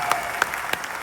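Brief applause from an audience at a Telangana Formation Day celebration in Dallas, a short burst of scattered claps at moderate volume.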